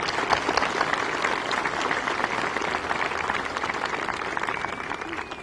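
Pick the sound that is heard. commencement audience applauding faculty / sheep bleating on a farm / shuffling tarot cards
commencement audience applauding faculty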